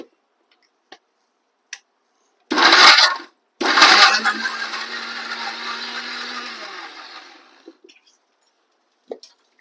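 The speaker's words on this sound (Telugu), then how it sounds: "మిక్సీ దగ్గర జాగ్రత్తగా ఉండండి అమ్మ, వేడి వేడి దానికి ఒక చింది వస్తాయి." A kitchen mixer grinder grinds a tangy tamarind and brinjal chutney with bottle gourd and dal, two short loud bursts followed by a longer whirring run that fades, with small clicks before and after.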